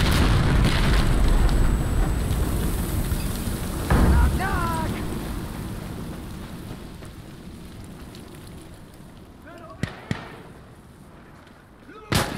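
An explosive charge detonates in the video game Insurgency Sandstorm, a heavy boom that then rolls away in a long, crackling, rain-like decay, with a few sharp later cracks and short voice calls on top.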